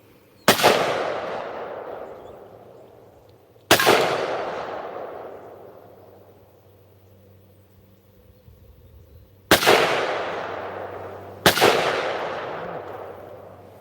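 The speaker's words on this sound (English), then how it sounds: "First shots from the SIG MCX Rattler in 300 blackout with a ROMEO3 sight." Four loud, sharp gunshots from a SIG MCX Rattler in 300 Blackout fired outdoors, each with a long ringing decay, spaced irregularly over the span with quiet gaps between.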